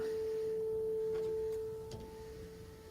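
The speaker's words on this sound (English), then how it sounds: "Yes, that is a beautiful sine wave." A pure, steady synthesizer sine tone holds at an even level, then cuts off cleanly, leaving a faint hiss and a couple of soft clicks.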